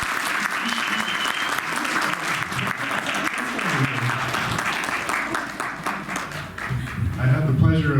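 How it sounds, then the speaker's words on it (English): A church congregation at Indiana Family Church claps warmly to welcome a new pastor, the close, dense applause running throughout while voices talk over it and rise toward the end. "applause?"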